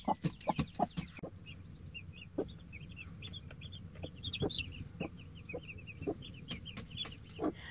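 A broody hen called Cinnamon clucks among her newly hatched chicks in a coop on their first night, with high chick peeps repeating steadily over low clucks and a few sharper calls, all close by.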